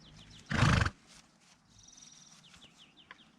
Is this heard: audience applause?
no